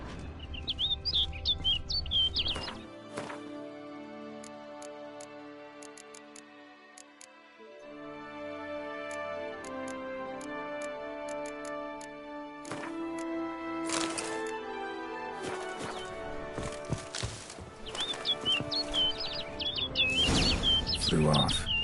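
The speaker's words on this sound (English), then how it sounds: "Looks like the bird's leading me somewhere." A bird chirps in the video game The Witcher 3: bright tweets at the start and again near the end, over ambient in-game music, ticking and clicking effects, with bursts of speech in between.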